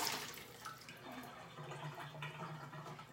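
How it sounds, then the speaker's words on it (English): Water drains out of a machine in a soft, continuous trickle and splash, fairly quiet and close, with no voices. "let me drain this water out"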